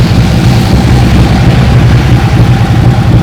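Harley big bike engine idling with a steady, even low rumble, close and loud throughout, no voices.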